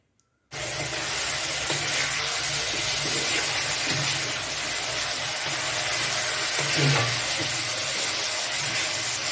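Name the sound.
rice with vegetables and sugar being stir-fried in a pan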